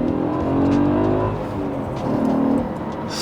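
An older car with wingback seats accelerates along an open B road, its engine a close, steady drone that swells and rises in pitch, with no voices.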